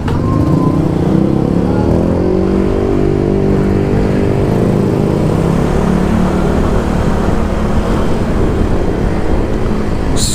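A Kymco Dollar scooter engine accelerating on a test ride, a loud, close, steady engine drone rising in pitch as it picks up speed, with wind rush and road noise throughout.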